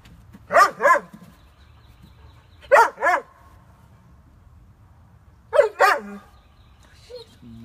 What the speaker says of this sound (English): reaction to the barking.